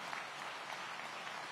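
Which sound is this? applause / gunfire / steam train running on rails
applause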